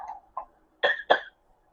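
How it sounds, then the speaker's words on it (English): Four short coughs in quick succession, close and fairly loud, with a brief pause after the first two. "That was great coughing, I think."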